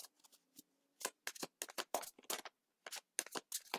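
Tarot cards being shuffled by hand: a run of quick, crisp riffling bursts in irregular clusters, close and fairly quiet with short silent gaps between them.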